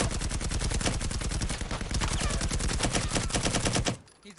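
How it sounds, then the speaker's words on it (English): Sustained automatic machine-gun fire in an online 2v2 shooter match, a loud rapid stream of shots laying down suppressing fire for nearly four seconds before cutting off abruptly, with no talk over it. "that's just laying down a whole hell of a lot of gunfire, allowing them to cross the street"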